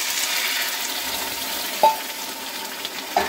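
Ground drumstick leaves fry with browned onions for a Bengali bharta, a continuous close sizzle with two sharp utensil knocks against the pan and light stirring; no talk.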